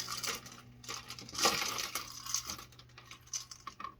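Small buttons clatter and click as they are gathered up from a craft table for a harvest project, a scattered run of light taps and rattles with a louder cluster in the middle.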